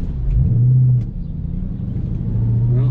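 A Lexus GS400 with a manual swap driving on a test run, its engine giving a low steady rumble with two brief rising revs, close and clear with no talk.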